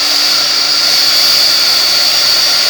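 A heat gun runs steady and loud, melting embossing powder on handmade stamped cards, with a constant airy whoosh and a high whine throughout and no talking.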